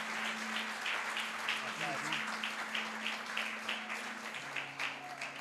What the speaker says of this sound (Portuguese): Aplauda bem forte ao Senhor.